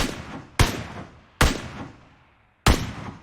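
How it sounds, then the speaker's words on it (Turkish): Three loud, close gunshots from a video game ring out alone at irregular intervals, each a sharp blast with a short decaying tail. "Bak şuradan ateş ediyor"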